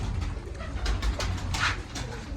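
Domestic pigeons in a loft coo in soft, overlapping calls alongside brief wing and scratching noises, steady and fairly close with no talk.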